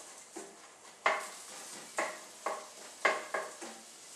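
Garlic and onion sizzle in a hot pan while a utensil scrapes and stirs in several sharp, regular strokes against the metal.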